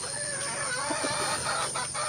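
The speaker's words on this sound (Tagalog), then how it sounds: "yung tilaok ng manok dito" A rooster crows and clucks at a distance amid steady outdoor background noise, the calls brief and fairly faint, near traps set for wild junglefowl in the Philippines.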